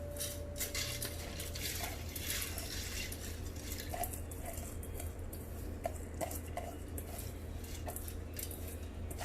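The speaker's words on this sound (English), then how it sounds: "we give it a good stir" A spoon scraping and clinking against a rice cooker pot as soaked rice is stirred with cardamom, bay leaves and cloves, soft repeated taps over a steady low hum, fairly faint throughout.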